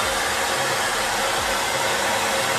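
A hair dryer on a cool setting blows a steady, loud, close-up whoosh while drying a dog's coat during at-home grooming.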